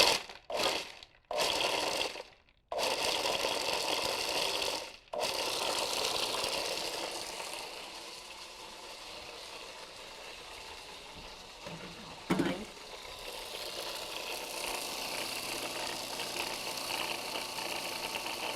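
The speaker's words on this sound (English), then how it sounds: "I'm just going to grind this up, just the dates and the nuts real quick right here." Kitchen appliance grinding dates and nuts, a loud continuous grinding roar broken by a few brief stops and restarts at the start, then running steadily before easing toward a quieter hum.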